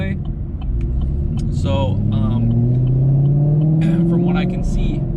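A 2018 Chevrolet Camaro Gen V engine runs steadily during throttle tuning, its low rumble climbing gently in pitch as revs rise, with someone talking over it.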